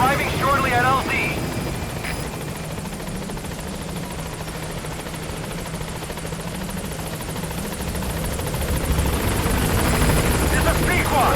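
Support helicopter arriving at a landing zone in Metal Gear Solid V: The Phantom Pain, a loud continuous rotor and engine roar that holds steady, then swells slightly as it nears.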